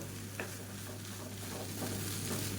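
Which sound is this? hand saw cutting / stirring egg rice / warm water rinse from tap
stirring egg rice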